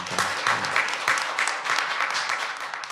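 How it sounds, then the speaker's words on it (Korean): An audience at a forum applauds steadily, a dense, even wash of clapping that holds for the whole stretch without pause or talk. "박수 좀 부탁드립니다."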